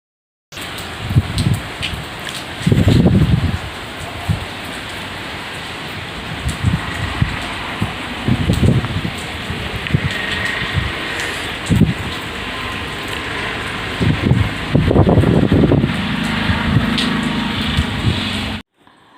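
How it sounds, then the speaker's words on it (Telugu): Strong gusty wind from Cyclone Mandous blows outdoors in a steady roar, with repeated rumbling buffets and rustling swelling and fading over the recording. "చూడండి అసలు గాలి అసలు ఎలా వస్తూ ఉన్నదో బయటకు వస్తే"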